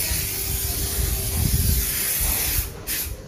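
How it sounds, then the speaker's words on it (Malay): Sticker remover sprayed onto leftover sticker glue residue, a steady close aerosol hiss lasting about two and a half seconds before it cuts off, followed by a short second burst. "kita pakai stiker remover, kita spray saja"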